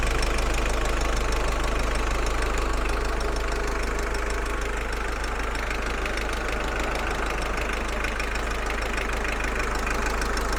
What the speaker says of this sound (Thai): แล้วก็ สตาร์ทนะครับ อ่า ได้ยินเสียงเครื่องไหมครับ